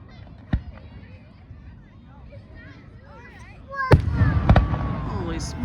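Fourth of July fireworks explode at an Independence Day display, with one sharp distant bang followed by a cluster of louder, closer booms and crackling, while children and a crowd chatter in the background.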